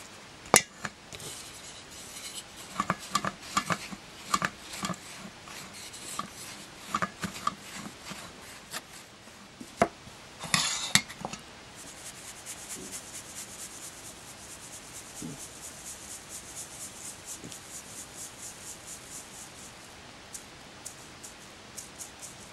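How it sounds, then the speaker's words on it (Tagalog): Toasted flour for ube polvoron is shaken and rubbed through a strainer, giving scratchy rasping strokes and taps in the first half that settle into a steady soft sifting hiss, close and fairly quiet. "nilagay natin sa strainer. Sasalain po natin ito before natin paghaluin lahat yung mga sangkap."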